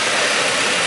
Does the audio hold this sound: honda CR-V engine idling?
yes